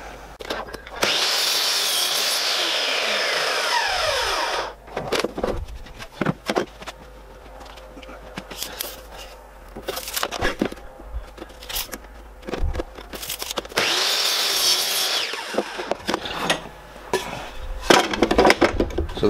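Rough sawn 2x4 timber is cut to length for stool legs with a power saw, two loud sustained cuts nearby separated by quieter clattering, scraping and handling of wood, with no talking.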